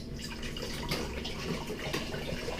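Seawater pours into a pot for cooking a whole wild lobster, a steady close splashing and trickling of liquid that runs unbroken throughout, with no one speaking.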